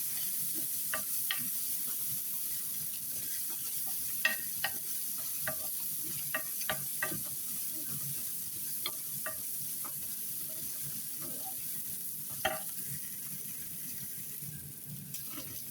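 Corn kernels stir-fry in a pan with a steady, soft sizzle, and a utensil clicks and scrapes against the pan now and then throughout.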